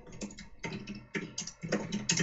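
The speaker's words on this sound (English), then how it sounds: "Somebody's typing." Someone types on a computer keyboard during a live Skype call, brisk bursts of clicking keys separated by short pauses, fairly close and clear with no talking.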